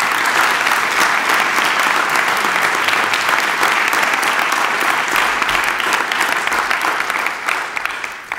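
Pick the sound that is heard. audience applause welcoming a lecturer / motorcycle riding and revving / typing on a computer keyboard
audience applause welcoming a lecturer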